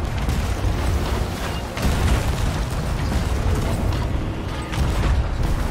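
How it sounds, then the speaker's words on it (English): Heavy, continuous rumbling booms with crackling bursts of ship cannons firing repeatedly in a loud Sea of Thieves ghost ship battle. "Alright, prepare the cannons."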